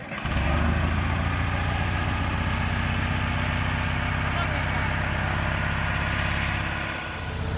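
A vehicle engine at close range idles with a steady low throb and slight revving, driven by a woman, holding even for several seconds before easing off near the end; faint talk sits under it.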